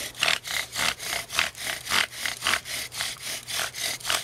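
Bow drill spindle rubbing back and forth on a wooden fireboard during fire-making, a rhythmic rasping scrape of steady fast strokes, about two per second, close and moderately loud with no talk.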